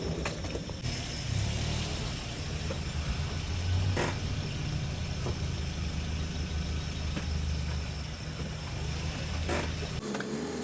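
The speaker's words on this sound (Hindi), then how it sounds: "अब बस अंदर छोड़ें और फिर गाड़ी को पार्क करते हैं।" A car engine idles steadily with low mechanical hum and occasional creaks and clicks while the vehicle is being parked, continuous and fairly close with no talk.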